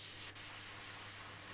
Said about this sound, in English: I am spraying in those window sections just to remove some of the initial overspray